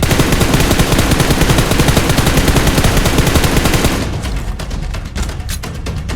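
Gunfire in PUBG Mobile, a dense, loud continuous automatic burst that thins into separate sharp shots near the end, with no talk.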